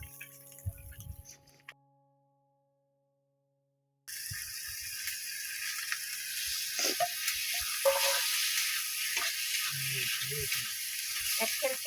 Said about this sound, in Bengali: এই যে মাছটা ছেড়ে দিলাম।